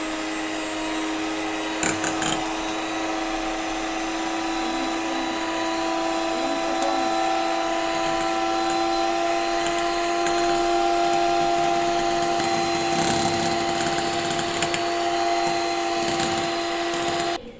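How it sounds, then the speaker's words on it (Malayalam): Electric hand mixer running at medium speed, beating whipping cream for homemade chocolate ice cream; a steady, continuous motor whine with a faint rattle, close by and alone for the whole stretch. "ഇനി നമുക്കൊരു മീഡിയം സ്പീഡിൽ വെച്ചൊന്ന് ബീറ്റ് ചെയ്ത് കൊടുക്കാം."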